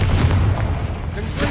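A Confringo fire spell bursts in the Hogwarts Legacy video game, a dense, booming explosion with heavy low rumble that stays loud and sustained for over a second.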